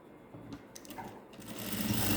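A sewing machine stitching the back side of a blouse, a short, quiet burst of rapid mechanical stitching that grows louder toward the end.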